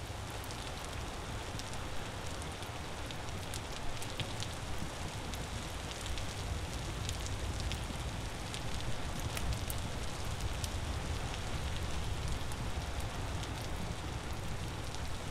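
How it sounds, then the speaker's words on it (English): Steady rain pours down in the survival game Vintage Story, a dense, even hiss with soft scattered patter and occasional ticks, continuous and unbroken, with no voices. "it is still flipping raining"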